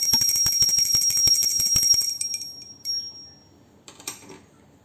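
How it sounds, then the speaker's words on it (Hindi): A small hand bell rings rapidly during a Hindu puja offering, with a bright metallic jangle for about two seconds, then fades, with a brief faint ring again shortly after. "अब हम घंटी बजाकर लगा देंगे भोग।"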